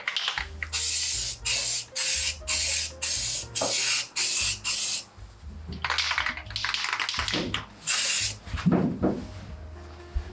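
Rust-Oleum truck bed liner sprays from an aerosol nozzle onto an OBS Chevy truck bed in a series of short, sharp hissing bursts, roughly a second each with brief gaps, then longer, more irregular sprays up close.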